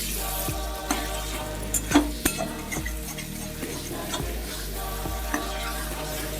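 Tomato fish curry being stirred in a pan, with steady frying sizzle and scattered clinks and scrapes of a spoon against the pan, close and fairly loud, with no voices.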